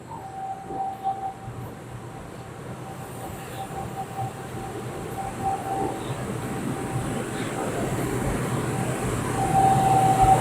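A train approaching Bang Kapi station: a steady low rumble that slowly grows louder, with a faint tonal whine running through it.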